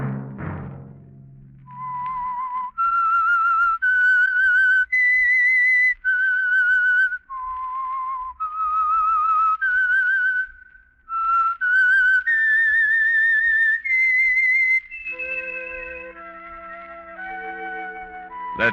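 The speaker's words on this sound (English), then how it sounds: "Let that whistle be your signal for the signal oil program, The Whistler" A lone whistler carries the theme tune of The Whistler radio program, a clear, loud melody of sustained and gliding notes in phrases, ending on a lower harmonized chord.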